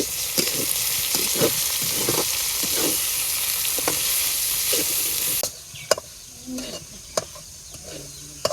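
A tempering (baghar) hisses loudly in hot oil over cooked greens in a Bengali village kitchen, a strong continuous sizzle with stirring taps, then cutting to quieter clinks and scrapes of utensils.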